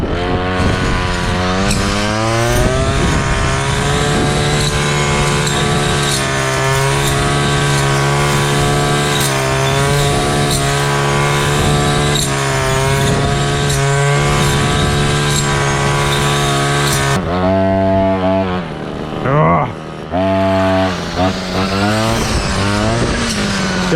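A petrol brush cutter's small two-stroke engine runs loudly and close up, cutting grass, holding a steady buzzing whine with brief revs before dropping to a rough idle.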